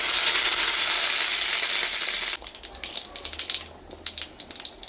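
Dried red chillies hit hot coconut oil with mustard seeds in a loud burst of sizzling, which settles into sparser popping and crackling after a couple of seconds.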